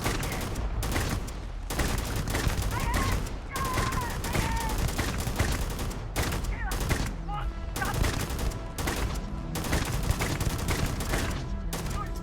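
Sustained rapid gunfire from a gun in Starfield, dense bursts and volleys continuing almost without pause, loud and close, with a voice faintly mixed in.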